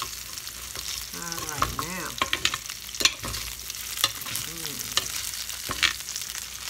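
Breakfast medley frying in a skillet with a constant close sizzle, broken by repeated clinks and scrapes of a spatula stirring and turning the food, with some brief squeaky scraping sounds in between.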